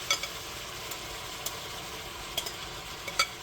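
Kielbasa browning in a pan on the stove gives a soft, steady sizzle with a few faint pops and ticks scattered through it, and no voices.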